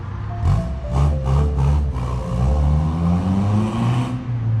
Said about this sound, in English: Noisy exhaust.